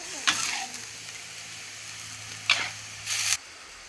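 Pork with chili stir-fried in a hot pan, with a few short sizzling bursts and stirring scrapes over a low steady hum, fairly close and moderately loud, with no talking.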